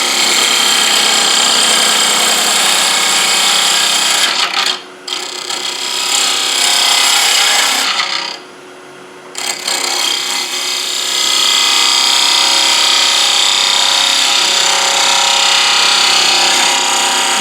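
A spindle gouge cuts a wooden flask vessel spinning on a lathe, making a loud, close, continuous scraping hiss that dips twice in brief pauses before the cut resumes steadily.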